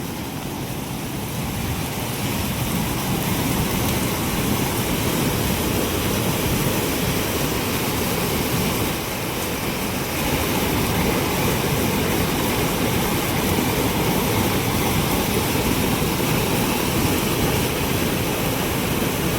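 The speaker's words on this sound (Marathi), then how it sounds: "हा आहे आमच्या गिरणा नदीचा महापूर" The Girna river in heavy flood, a loud, steady roar of rushing floodwater that holds unbroken for the whole stretch with no talk.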